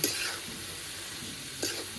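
Cabbage with spices and salt being stirred and fried in a pan: soft sizzling with a couple of spatula scrapes, fairly quiet and brief, no talking.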